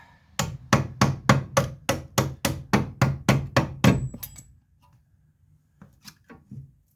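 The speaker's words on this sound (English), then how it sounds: "Give the bolt a tap" A hammer taps a ball joint bolt on a 2002 Nissan Pathfinder, about eleven sharp, evenly spaced metallic strikes in a quick steady rhythm, loud and close, then a few faint knocks after a pause.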